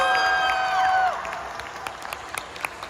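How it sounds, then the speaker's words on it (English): Audience at an anime convention panel for Jujutsu Kaisen claps for a fan's hand-painted gift, a loud burst of applause over chatter that cuts off after about a second, leaving scattered claps and murmurs. "Everybody clap for Zoe."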